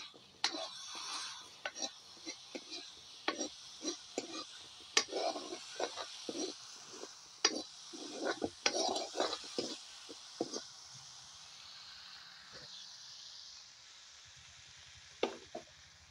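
A vegetable curry of eel fish and climbing-plant leaves fries in a pan over a wood fire, a faint sizzle under irregular clinks and scrapes of a spatula stirring against the pan, fading to a quiet crackle near the end.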